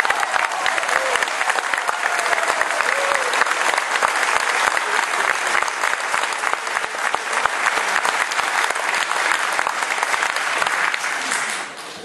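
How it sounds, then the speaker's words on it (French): Sustained, dense audience applause fills the room for an orchestra's guitarist and singer, a loud, even wash of many hands clapping that continues without pause and fades slightly at the very end. "Je vous applaudis très fort, s'il vous plaît, Benjamin."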